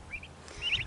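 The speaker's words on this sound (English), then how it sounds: "The turkeys are getting bigger." Young turkeys give a couple of short, faint calls close by, brief and quiet with no talking.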